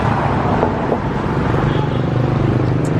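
A vintage delivery vehicle rolls past with a steady, loud engine drone and low rumble, close by and continuous.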